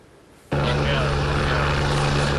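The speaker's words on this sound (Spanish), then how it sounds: "Un helicóptero que cargaba una canasta con agua llegó al sitio para descargarla" A helicopter carrying a water basket arrives over a forest fire on a hilltop, its engine and rotor starting abruptly as a loud, steady, close roar with a droning hum.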